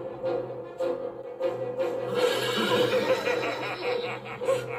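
A horse whinnies and neighs several times in a woodland Halloween setting. The calls are clear and moderately close, with faint rustling and hoof sounds underneath.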